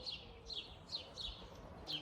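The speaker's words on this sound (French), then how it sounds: "il y a souvent des oiseaux et parfois des chats aussi" Small birds chirping in short, repeated high tweets, roughly every half second, fairly faint over a quiet background.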